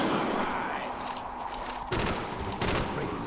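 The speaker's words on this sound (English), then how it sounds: "I got myself a machine gun." Bursts of machine gun fire in the Call of Duty: Black Ops zombies map Call of the Dead, played online, with loud layered shots rattling over a steady game-sound backdrop and a faint voice at times.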